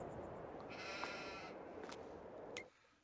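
Sheep in the Farming Simulator 22 video game bleat a few times over a steady hiss of ambient farm noise, which drops away abruptly at the end.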